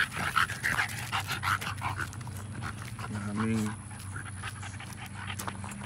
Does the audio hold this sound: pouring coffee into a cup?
no